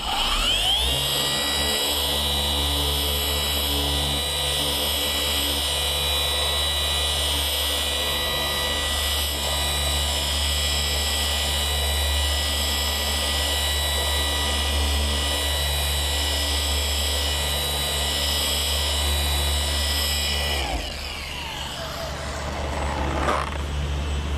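A Milwaukee M18 cordless random orbital polisher runs continuously with a loud, steady motor whine and droning vibration for about twenty seconds, then winds down and briefly revs again.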